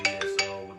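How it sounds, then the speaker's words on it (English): Brief mobile phone ringtone for an incoming call, a few quick electronic tone pulses with a short melodic note, faint and close. "someone's calling my phone"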